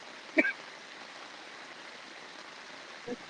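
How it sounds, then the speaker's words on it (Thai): Rain falls during a flood in Yala, Thailand, a steady, faint, even hiss of water with a couple of brief knocks and no other prominent sounds. "นี่ฝนตกลงมาอีก"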